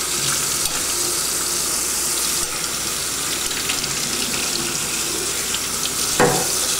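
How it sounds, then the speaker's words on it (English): Tap water runs steadily while hookah parts are rinsed, a continuous close splashing wash through the stem and base holes, with a brief louder splash near the end. "Make sure the water runs through each of the holes and through the bottom like that."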